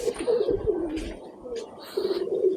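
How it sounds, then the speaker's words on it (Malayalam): A pet pigeon, kept by a breeder and from a Surma line, coos in low soft phrases, close and fairly quiet, with brief pauses between. "ഒരു ലൈനേജ് വരുന്ന ഒരു പ്രാവാണിത്."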